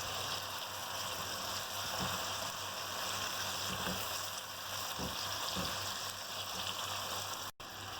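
Beef frying with tomatoes in a karahi, a soft continuous sizzle with faint bubbling and occasional stirring clinks, close but quiet, with no talk.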